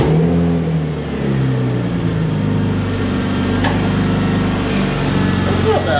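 A junkyard car engine starts and revs steadily, a loud continuous mid-pitched drone with rising and falling revs that holds for several seconds, close to the listener.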